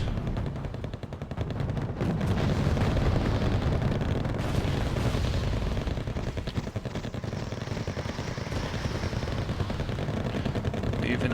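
Dense, continuous artillery fire and explosions from a T-62 laying a smoke barrage in the war strategy game Wargame: AirLand Battle, a loud rumbling wash of overlapping booms and crackling shots with no pauses.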